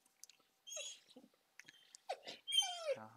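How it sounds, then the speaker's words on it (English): A dog whimpers and whines in short, high, broken bursts, faint and close, with small chewing-like sounds in between. "My dog got crazy."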